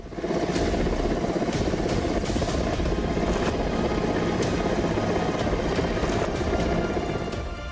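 An Indian Air Force Mi helicopter on a rescue operation roars loudly and continuously overhead, its rotor chop thudding steadily throughout with no voices.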